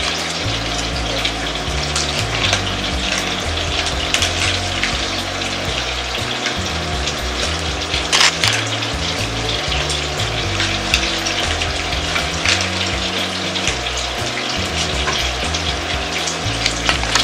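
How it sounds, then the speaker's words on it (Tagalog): Hamburger patties simmer in tomato sauce in a pot for baked Italian hamburger pasta, giving a steady, close bubbling and sizzling wash with faint clinks of stirring throughout, no voices. "habang pinakukulaan natin tong ating sauce, lalagay natin yung mga hamburger dito sa pakukulaan natin"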